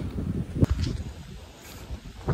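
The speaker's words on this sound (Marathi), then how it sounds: "वाऱ्याचा आवाज." Blustery wind on the Kalavantin Durg mountain trek buffets the microphone in uneven gusts, with low rumbling bursts and a steady airy hiss throughout.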